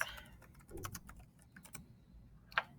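Keystrokes on a computer keyboard tap out in short, quiet bursts, with a brief scattered run early on and a single sharper click near the end, against a faint room hush.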